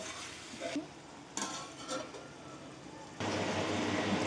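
Chicken fry being mixed in a pan before simmering, with a soft scraping stir, brief clinks of the utensil and a gentle sizzle that swells near the end, close by.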